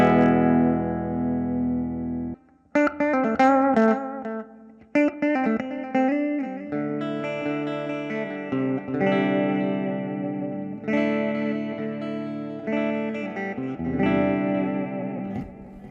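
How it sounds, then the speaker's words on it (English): Electric guitar chords ring out through a Vangoa VPG-15 amp with a spacious reverb, notes sustaining and blurring into a wash between strums. "but yeah, that reverb though."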